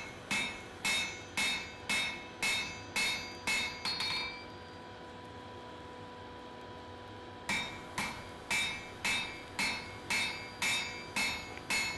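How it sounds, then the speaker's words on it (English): A wide hand hammer forging hot steel on an anvil for a forge-welded Anglo-Saxon adze, used like a flatter: steady rhythmic ringing blows, about eight in a row, a pause with a faint hum, then another even run of strikes, close and loud. "using my wide hammer for this as well because it acts like a flatter"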